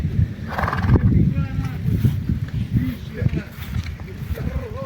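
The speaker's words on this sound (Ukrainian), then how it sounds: "Коні собі вільно ходять" Horses roaming loose nearby, including a mare, with clip-clopping hooves on the ground and a whinny rising through the middle, while people talk over it.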